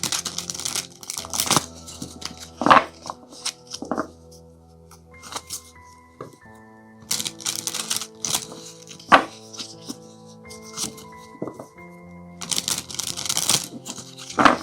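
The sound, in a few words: tarot cards being shuffled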